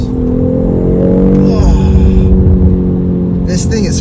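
A 2022 BMW X3 M40i accelerates hard onto a highway, its engine note climbing in loud, steady pitch with rising harmonics and a brief shift midway, plus a short chime near the end.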